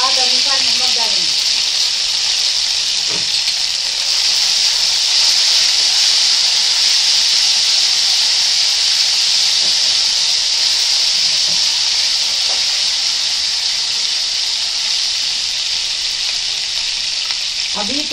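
Garlic paste frying in a pan for a Konkani eggplant curry, a loud, continuous sizzle and hiss with occasional stirring scrapes, while a voice talks intermittently over it.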